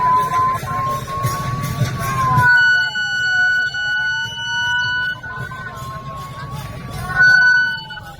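Ambulance siren wailing loud and close as it pushes through a crowded Ratha Yatra chariot festival procession, its tone rising and falling over crowd babble while someone shouts directions.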